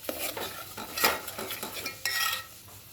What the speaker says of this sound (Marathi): हे आता तेल सुटेपर्यंत हलवून घ्यायचं आहे